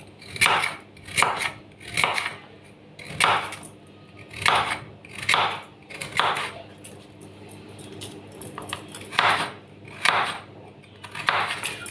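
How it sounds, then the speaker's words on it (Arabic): Knife blade knocks down through carrots onto a cutting board, slicing them into rings in a steady series of about a dozen crisp, close chops with short pauses. "الجزر هنقطعها حلقات كده"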